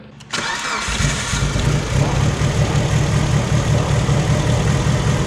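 A Mitsubishi Evo engine cranks briefly and catches, then runs loud and close at a steady rough idle for the rest of the clip.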